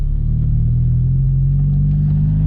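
A manual-transmission car pulling away in first gear as the clutch is eased out with a touch of throttle, producing a steady close engine rumble with a low hum that rises slightly in pitch.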